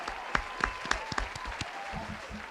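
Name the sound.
round of applause sound effect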